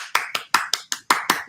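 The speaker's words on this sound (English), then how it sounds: "Tony, clap the man." One person claps hands eight times in a quick, slightly uneven rhythm, each clap sharp, close and distinct.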